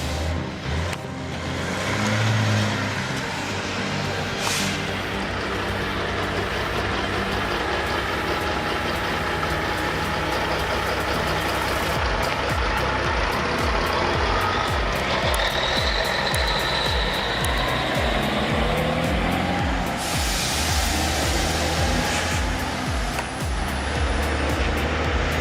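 A vintage American 425-horsepower truck engine on a timber logging truck in the Styrian forest gives a continuous heavy diesel rumble, running steady and loud close by, with sharper bursts and rattles partway through.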